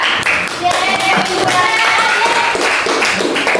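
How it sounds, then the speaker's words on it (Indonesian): A high school classroom claps for a student, with continuous brisk hand-clapping close by and voices mixed in. "Tepuk tangan kepada."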